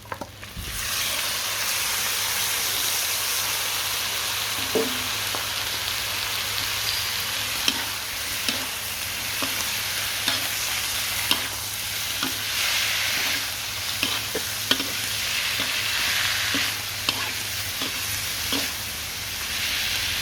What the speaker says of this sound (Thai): ผัดปลาไหลให้เนื้อมันสุกครับพี่น้อง